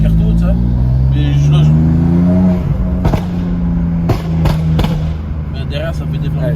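A tuned car engine idles loudly close by, its low drone rising in pitch as it revs and then settling, with a few sharp clicks or pops in the second half.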